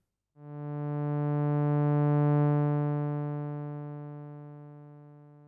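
A single sustained tone from a Yamaha Reface CS synthesizer, rich and buzzy, swells up quickly and then slowly fades away toward silence, with sustain set to zero.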